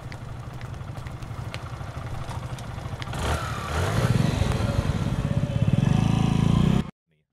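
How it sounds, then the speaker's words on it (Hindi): A motorcycle engine idles with a steady throbbing putter, then grows louder and rougher as it revs before cutting off abruptly. "तू अरविन के बाइक पे जा, तू पीछे बैठ।"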